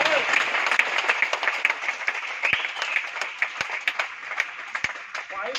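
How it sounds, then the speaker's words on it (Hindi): A crowd of attendees at a seminar aboard a cruise ship claps together in a steady, lively round of applause, many hands blending with a few sharp individual claps standing out. "इनके लिए एक ताली तो बजा।"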